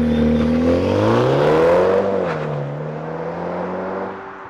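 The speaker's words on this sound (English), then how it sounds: "'20 Mini John Cooper Works. Countryman all four with launch control." A 2020 Mini John Cooper Works Countryman ALL4 pulls away hard on launch control, the engine note climbing through the revs in one loud, close surge, dipping briefly at a shift and settling into a steadier drone.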